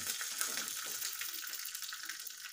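Mustard seeds pop and crackle in hot ghee, a dense, steady sizzle of quick bright spits with no voices over it.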